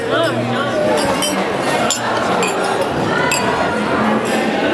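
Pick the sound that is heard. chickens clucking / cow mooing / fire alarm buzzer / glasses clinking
glasses clinking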